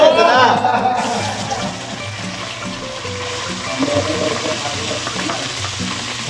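Food frying in hot oil in a home kitchen, a steady crackling sizzle with occasional pops and splatters, heard under people talking and laughing nearby.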